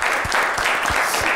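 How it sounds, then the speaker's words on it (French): Studio audience on a television set applauding an actress's mother, loud close clapping with a regular beat of low thumps, steady and unbroken. "On applaudit pour la maman d'Eliane."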